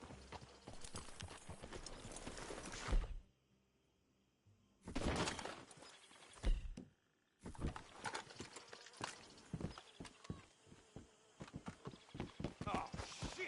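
Horse hooves clip-clop steadily in bursts in Red Dead Redemption 2, loud and close, broken by short pauses, with a brief crash and faint voices in the background.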